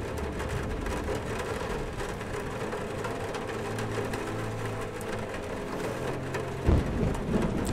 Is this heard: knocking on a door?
no